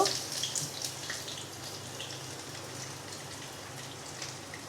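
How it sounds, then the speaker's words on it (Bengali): Chopped onion hits hot oil in a pan for pilau and sizzles with a steady, hissing crackle, loudest at the start and then settling into an even fry. "আমি ওই তেলটার মধ্যেই এখন একটু পেঁয়াজ কেটে নিয়েছি, সেটা দিয়ে দিব।"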